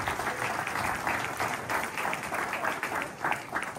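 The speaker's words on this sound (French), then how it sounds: "lui demande d'applaudir à Zot d'abord" Dense, continuous audience applause fills a French-language gathering, a broad wash of many hands clapping at once, steady and fairly close with slight swells in intensity.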